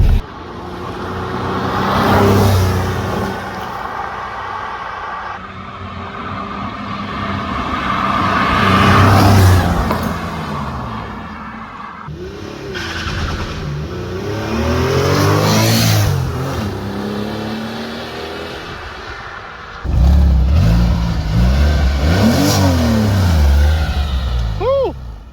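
The engine of a cheap Porsche 911 idles and then revs in several loud swells that rise and fall over about 25 seconds. People talk over it at times.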